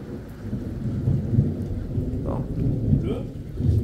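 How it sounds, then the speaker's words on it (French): Rain falls steadily nearby amid a low rumbling violent thunderstorm in the Drôme, France, with faint distant sounds over the downpour. "Alors il pleut, mais ça va"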